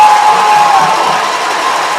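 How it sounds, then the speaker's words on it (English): A steady, dense roar of a home crowd cheering and shouting at the Edna Cowboys vs. Franklin Lions football game, continuous and loud throughout with no single voice standing out. "If someone can text the crowd to be quiet while we're on offense."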